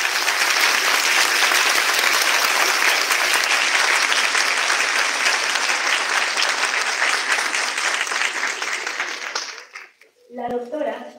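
A large audience at the opening ceremony of an academic congress gives sustained, loud applause to the officials, holding steady for about nine seconds before fading out, with a voice speaking briefly at the end.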